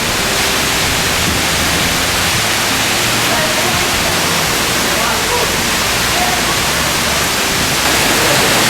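Strong wind roars steadily over the Amazon river, a loud continuous broadband rush like constant buffeting against a microphone.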